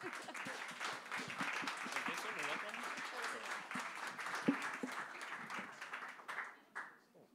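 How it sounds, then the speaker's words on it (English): Audience applause at an Astronomy on Tap science talk night in Bonn, a sustained wash of many hands clapping that fades out toward the end. "Ah, Applaus. Clap time."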